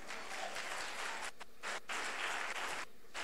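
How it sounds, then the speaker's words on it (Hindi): Congregation at a church convention clapping together, a loud, dense wash of hands broken by a few brief pauses before resuming. "ताली नहीं बजाएंगे?"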